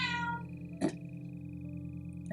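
A cat lets out an upset, drawn-out meow near the start, with a second short cry at the end, heard close over a steady low background hum.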